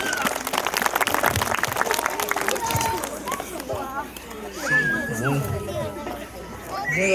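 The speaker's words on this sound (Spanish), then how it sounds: "Vamos a recepcionar con un fuerte voto de aplausos." Guests at a family celebration applaud to receive a godfather, a loose patter of clapping mixed with crowd chatter and children's voices, with people talking throughout.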